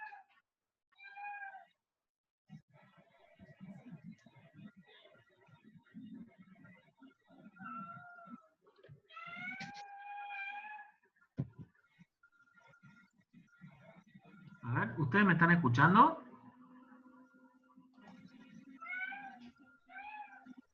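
A small kitten that has just climbed in through a window meows several times in short, clear calls between stretches of a teacher's quiet talk, with one louder burst of noise near the end.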